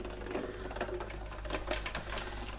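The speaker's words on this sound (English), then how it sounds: "I'm placing it over, and I need to run it through my machine." Cardstock being run through a GoPress die-cutting machine, giving a steady mechanical whirring and grinding that continues without a break at moderate, close volume, with faint clicks.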